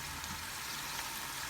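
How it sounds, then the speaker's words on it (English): Potatoes deep frying in hot oil, a steady dense sizzle with no break, close and moderately loud, with no voices. "Doesn't help deep frying it though, I suppose."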